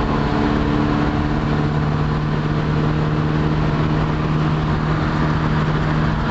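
A Renault R8 Gordini engine running at a steady, loud drone with a strong low hum, heard from inside the car while cruising at speed, constant with no talking.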